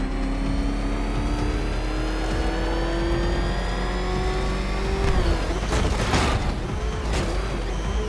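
Batmobile engine in Batman: Arkham Knight, a steady loud engine drone with a rising whine that climbs slowly, then a burst of revving and roaring around the end, heard alone without voices.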